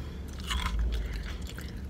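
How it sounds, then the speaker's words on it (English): Loud, close crunching as a crisp cheese corn dog is bitten and chewed, with a few crackly bursts in quick succession and no talking. "Do you guys hear that crunch?"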